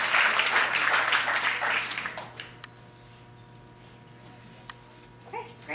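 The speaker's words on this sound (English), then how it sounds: "big round of applause" A crowd applauds loudly for about two seconds at a hackathon awards event, then the clapping fades into scattered claps and quiet room noise.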